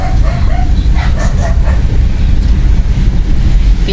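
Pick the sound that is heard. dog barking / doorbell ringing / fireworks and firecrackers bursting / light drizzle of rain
dog barking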